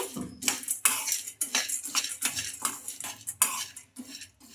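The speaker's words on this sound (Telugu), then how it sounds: "ఇంకా ఈ పప్పులను కొంచెం కలర్ చేంజ్ అయ్యే వరకు అయితే ఫ్రై చేసుకోవాలి" Roasted chana dal frying and being stirred in a pan on the stove, with steady scraping and clinking of a spoon against metal in repeated strokes, close and moderately loud, with no talking.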